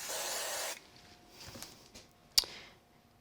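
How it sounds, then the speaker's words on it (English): A can of spray glue hisses in one short, close burst lasting under a second, followed by faint handling rustles and a small click in a quiet crafting room. "We use a little bit of spray glue."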